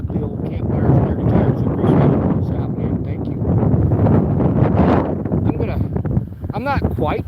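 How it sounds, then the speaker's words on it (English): Strong wind gusts roar across an open frozen lake in Michigan during cold winter weather, a steady loud buffeting against the microphone that runs through the whole stretch, with someone talking under it. "It's very windy out here."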